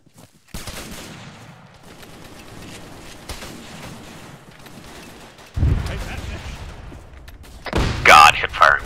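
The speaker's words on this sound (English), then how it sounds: "hip firing buckshot is so good" Shotgun buckshot fired from the hip in the military shooter Arma 3 booms as several loud, separate blasts a few seconds apart, with people talking over the shots.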